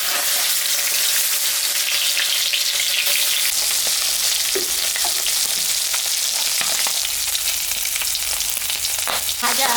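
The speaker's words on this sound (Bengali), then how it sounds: "এখন আমি মাছটা ভাজার জন্য সর্ষের তেল দেবো" Fish fries loudly in hot mustard oil in a wok, a dense, continuous close sizzle and crackle with a few spatters and clanks, and no talking.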